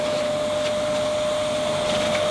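A Simplicity SV1 vacuum cleaner, nozzle lifted and drawn backward across carpet, gives a steady, close motor whine with a thin sustained tone and airy suction hiss throughout, with no talking.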